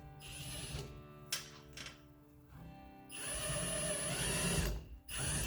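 A drill with a sharp bit whines and grinds against metal in uneven bursts during a bus window install, with pauses between pushes and a steady high-pitched tone, close by.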